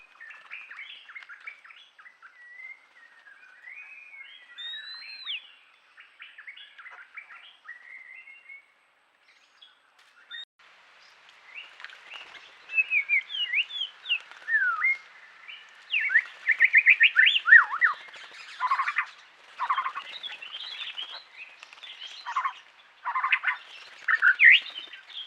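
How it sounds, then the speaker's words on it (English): A lesser necklaced laughing thrush calls at Rocky Pool, its clear whistles and rising chattering phrases coming in bursts. Quieter notes at first give way to a louder, busier stretch of overlapping calls. "The lesser necklaced laughing thrush"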